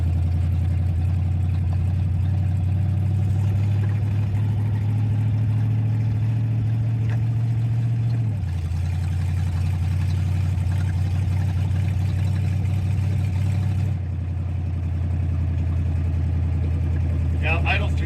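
A car engine idles too high with a steady, loud drone that holds throughout and drops slightly in pitch partway through, with people talking over it.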